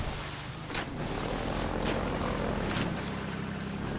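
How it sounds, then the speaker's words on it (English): Helicopter from Half-Life 2 droning overhead in the Water Hazard chapter, a constant loud rotor roar with rhythmic thumping pulses and no voices over it. "that chopper's getting annoying"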